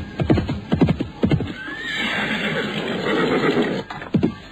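Horse tethered under a tree neighs loudly and close, with a long whinny in the middle flanked by breathy snorts and huffs, in an outdoor setting.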